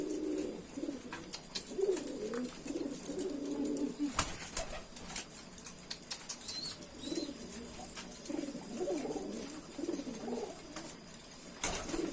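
Racing pigeons coo in a loft in repeated soft, throaty bursts, with some clatter and light movement around them and no talking.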